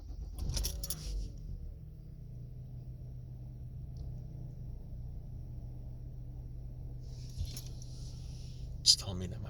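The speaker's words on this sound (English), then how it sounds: "Let's see if we can start it up." A Ford Fusion being started, with keys jangling at the start, then a quiet low engine idle humming steadily, ending with a brief sharp click and another jingle.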